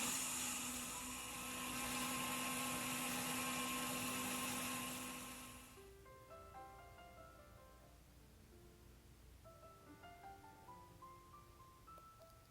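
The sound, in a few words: blender blending soaked soya beans into smooth paste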